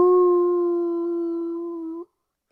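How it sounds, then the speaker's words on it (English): A wolf howl sound effect rises as one long, steady, quivering tone lasting about two seconds, loud and close, then cuts off abruptly into silence. "It was a howl of a wolf that has scented fresh blood."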